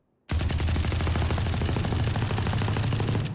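Automatic rifle in Valorant fired while crouched, a loud, continuous rapid burst of gunshots beginning abruptly and sustained without a break, the recoil left uncontrolled.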